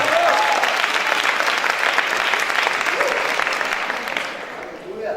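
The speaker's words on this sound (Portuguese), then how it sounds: "salve de palmas ao Senhor" A church congregation bursts into loud, dense applause that fills the space, holding strong before tapering slightly toward the end, with voices mixed into the clapping.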